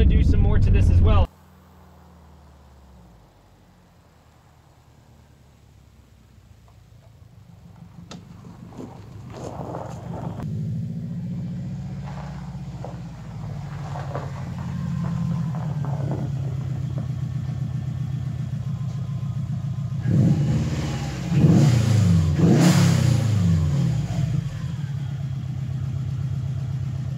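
Subaru Impreza 2.5RS with a swapped JDM WRX turbo engine driving in winter: a low engine hum builds steadily, with a louder surge of revving and rougher turbo and exhaust noise near the end, heard from inside after a door thud.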